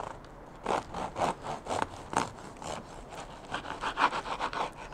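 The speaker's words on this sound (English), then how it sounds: "Nice bit of French bread here. Cut it in an angle." A knife saws through a loaf of French bread at an angle, a close run of rhythmic, raspy strokes with a short pause midway before the cutting resumes.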